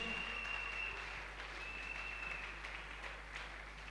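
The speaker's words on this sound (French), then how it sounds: "Est-ce que tu peux encore acclamer très fort?" A church congregation at a Sunday service applauds steadily throughout, a dense, even wash of clapping with faint cheering mixed in, heard at moderate level without speech.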